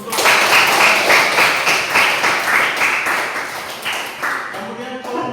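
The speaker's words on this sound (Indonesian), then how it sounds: "kita berikan aplaus untuk" A classroom audience claps for a student group, steady, lively applause filling the room for several seconds with rapid overlapping hand claps that thin out toward the end.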